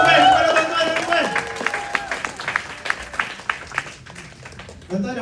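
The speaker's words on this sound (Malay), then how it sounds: "Bagi tepukan kepada tuan-tuan dan puan" Audience applause at a Public Gold leadership event in Cape Town, rising under a voice and music, then continuing as a steady crowd clapping for several seconds.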